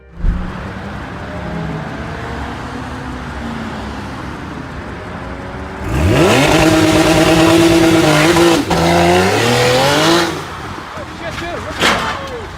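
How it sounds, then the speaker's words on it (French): A supercar's engine roars and its tyres squeal as it skids out of control and slams into a roadside barrier, loud and close, with a sharp impact burst near the end and voices faintly audible at the start. "La voiture s'écrase contre une barrière, ce qui entraîne un accident malheureux"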